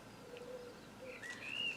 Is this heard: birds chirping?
yes